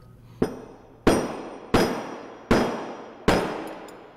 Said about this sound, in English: A couple of hits will remove the armature and the bearing from the motor head